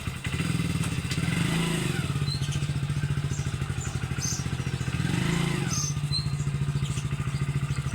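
A motorcycle engine runs with a steady idling putter, swelling twice as the throttle rises and falls, heard nearby and alone without talk.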